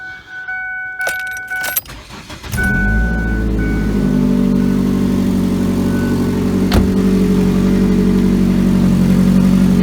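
A Ford Focus engine starts after a jangle of keys, then idles steadily and loud with a rough, rattly drone from a broken front exhaust flexi pipe.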